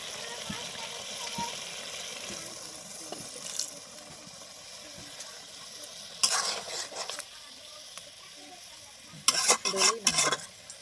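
Eggplant pieces cooking with spices and a splash of water in a pan, a soft simmering sizzle punctuated by bursts of louder stirring and sputtering near the end.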